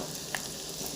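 Onion and ginger frying in a pan, a soft steady sizzle heard close but faint, with a small stir-like click partway through.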